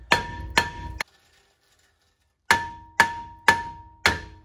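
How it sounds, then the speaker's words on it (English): Heavy hammer blows striking the rear brake rotor of a 2016 RAM 1500 to knock it loose: two ringing metallic strikes and a third cut short, a pause, then four more evenly spaced clanging hits, loud and close. "And then I'm just gonna hammer it till this thing comes off."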